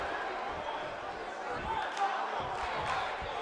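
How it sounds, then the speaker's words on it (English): Arena crowd in a WWE 2K wrestling video game match, a steady, muffled roar of cheering with brief swells and a few thuds, heard under commentary talk. "There you hear this crowd."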